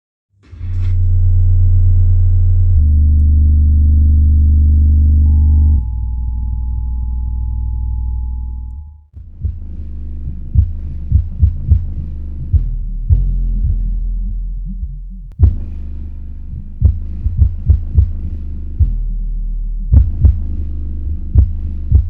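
Paradigm XR13 13-inch subwoofer driver pumping deep bass at massive excursion, loud sustained low throbbing tones that shift pitch in steps, then a series of rhythmic thumping pulses, alone with no talk.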